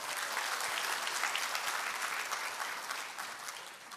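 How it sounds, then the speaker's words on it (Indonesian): A crowd claps steadily for several seconds at an Atomy business presentation, dense and even applause that tapers slightly toward the end. "Beri tepuk tangan untuk kita semua."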